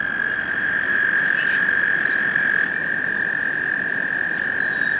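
American toads trilling nearby, one loud, unbroken high-pitched trill holding steady throughout, with faint insect and bird chirps in the background and no talk.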